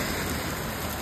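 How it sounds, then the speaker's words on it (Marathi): Hailstones pour down outdoors in the cold on the road to Shimla near Nagar Castle, a dense, steady patter of impacts filling the whole moment with no voices. "हे बघ डोक्यावर पडतायत, डोक्यावर पडतायत गारा."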